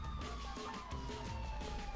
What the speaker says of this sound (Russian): сейчас полицейская машина должна приехать уже